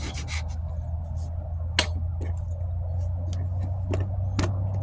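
Sanding on a wheel arch repair of a 1998 Ford Ranger, passenger side, gives short scraping rubs and a few sharp strokes over a low steady hum, close by.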